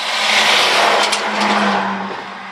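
A truck hauling two trailers rolls past at a busy port, a loud broad roar of engine and tyres swelling up close, then easing away.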